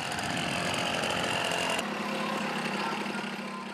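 A motorcycle carries a mother and her children to school, its engine a continuous loud buzzing drone with wind rush that shifts in tone midway, with no voices.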